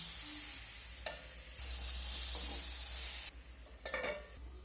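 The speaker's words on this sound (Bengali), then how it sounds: "এখন এই পটলটাকে একটু নাড়াচাড়া করে নিয়ে ঢাকা চাপা দিয়ে দিয়ে আমি পটলটাকে ভেজে নেব।" Pointed gourd fries with turmeric in a pan, a soft sizzle under a low hum, broken by a few sharp clinks and scrapes of stirring, one near the start and a cluster near the end.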